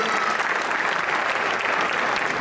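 Continuous dense audience applause for the stage technicians at a French youth charity show, loud and even throughout with no pauses.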